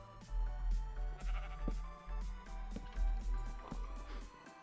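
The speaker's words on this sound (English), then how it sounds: "Excuse me, pigs, sheep, move." Sheep bleat repeatedly in the video game Minecraft, several overlapping wavering calls in quick succession over a low steady background, with no talking.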